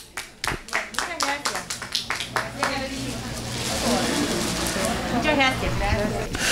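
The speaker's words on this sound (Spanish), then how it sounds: "le damos un aplauso también" Applause at a carnival prize-giving ceremony: a few distinct claps at first, then building into a fuller burst of clapping from the crowd, with voices mixed in underneath.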